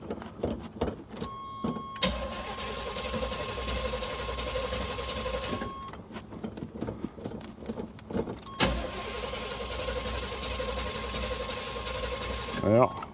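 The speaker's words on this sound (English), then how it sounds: "let's crank this up and see if she'll run" A rough square-body Chevrolet C-10 pickup's engine cranks over in two rhythmic bursts of about four seconds each, close and fairly quiet, with short clicks and pauses in between.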